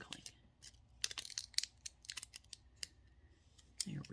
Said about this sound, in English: we get some good crinkling sounds